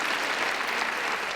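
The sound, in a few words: audience applause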